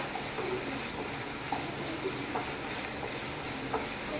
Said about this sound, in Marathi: ओके एक मिडियम सायज हांवें टोमाट चिरून घेतला तो बरो फ्राय करून घेता.